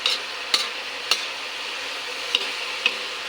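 Ground pork or beef mixed with papaya being stirred in a pan, a steady sizzle underneath with a handful of sharp spoon scrapes and taps spaced about half a second to a second apart.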